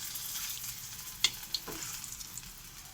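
Potatoes fry in a pan with a continuous soft oil sizzle, broken by a few sharp clicks of a utensil against the pan, no voices.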